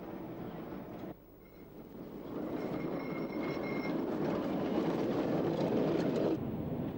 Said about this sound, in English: From 1929 to 1960, the electrified Swansea and Mumbles line was home to these giant 106-seater tramcars.